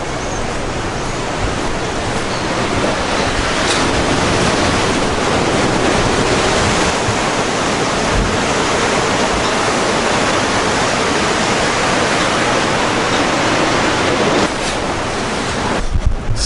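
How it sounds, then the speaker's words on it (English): Ocean waves at Laguna Beach: a steady, loud, close roar of surf washing in continuously, with no break and no talking. "Laguna Beach."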